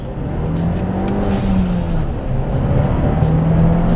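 A 2017 Ford Focus RS accelerates hard from a rolling start, its engine note a steady, loud drone that climbs in pitch through the run, with rumbling road noise underneath and no talking.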